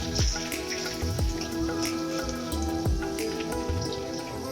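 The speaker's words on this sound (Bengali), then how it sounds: "এবার এগুলোকে একটু নাড়াচাড়া করে ভেজে নেব" Chopped onions with asafoetida fry in a pan while being stirred, a close steady crackling sizzle with scattered popping spatters and a few soft knocks, no voices.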